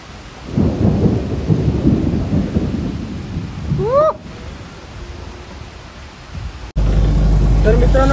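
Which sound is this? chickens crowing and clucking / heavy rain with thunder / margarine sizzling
heavy rain with thunder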